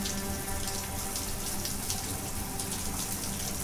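A shower runs in the video game Heavy Rain, giving a constant, fairly loud hiss of falling water with no break and no voices.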